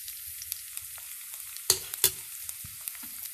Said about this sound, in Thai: อันนี้เป็นการผัดข้าวนะคะเป็นการผัดข้าว